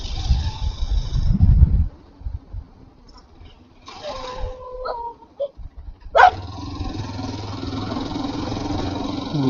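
A dog outdoors on a rough hillside track gives a brief whine followed by a single sharp bark, set against wind and low rumbling, with quiet gaps between.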